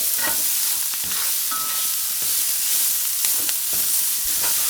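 Garlic, ginger and large shards of red onion sauté in a pan with a steady close hiss, broken by occasional stirring clicks and scrapes, with no talk.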